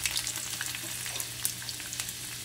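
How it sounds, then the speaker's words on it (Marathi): Cumin and mustard seeds crackle and pop in hot oil in a kadhai while making methi pithla, a dense, continuous spatter of sharp little bursts heard up close with no voices. "जिरे मोहरी चांगले तडतडले की लसूण घालायचा आहे."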